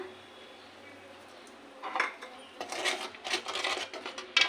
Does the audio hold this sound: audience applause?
no